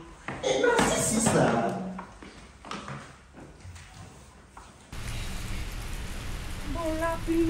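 Rain patters steadily on a surface, with a voice talking over it in the first part and a brief tonal whine near the end.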